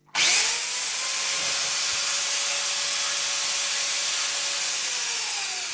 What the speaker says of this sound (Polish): Teraz weźmiemy naszą wiertarkę.